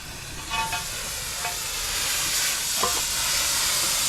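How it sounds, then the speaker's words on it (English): Cutting torch burning bolt holes through a metal trailer deck, a steady hissing roar throughout with a few brief sharper pops and flares. "Burning nice holes in there, see that?"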